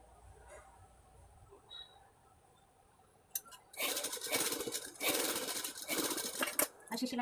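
A sewing machine stitches a blouse, starting after a quiet stretch with someone talking, then running in loud, fast rattling bursts with brief pauses, close by.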